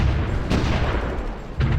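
Artillery fire in the strategy game Supreme Ruler Ultimate: a dense, steady rumble of distant booms with a sharper blast near the middle and another near the end, no talking.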